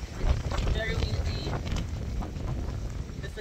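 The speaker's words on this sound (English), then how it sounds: "Very windy." Strong wind gusts across a beach near a giant sand dune in northern New Zealand, buffeting the microphone in a loud continuous rumble, with people talking faintly under it.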